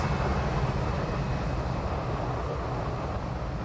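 The IXEG Boeing 737 in the X-Plane 12 flight simulator gives a steady, moderate jet engine roar, a broad continuous rumble with no talking over it.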